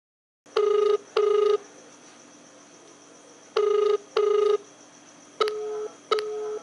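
A telephone call rings out unanswered: two paired ringback tones sound, a pause follows, then two more, and two shorter beeping bursts close the sequence, clear and steady against a quiet line.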